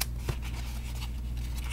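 Small scissors snip the corners of a handmade paper box, a few quick crisp cuts close by over a low steady background hum.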